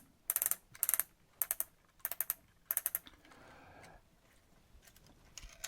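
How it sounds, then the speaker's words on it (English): Winding the film advance on a Holga 120 GCFN medium format camera produces five quick bursts of dry, ratcheting plastic clicks close up, then a faint rustle and a few scattered ticks. "And then your film advance."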